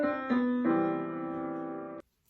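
Three sustained chords in the Ionian major mode, rich and bright, played one after another and ringing together before cutting off sharply.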